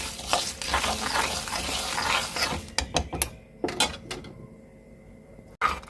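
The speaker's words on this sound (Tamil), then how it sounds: "தண்ணி ஊற்றி நல்லா கரைச்சி எடுத்துக்கிறேன்." Jaggery and water being stirred in a pan to dissolve for sesame candy, with close scraping and clinking of a spoon against the vessel, busy and continuous at first, then sparser distinct knocks toward the end.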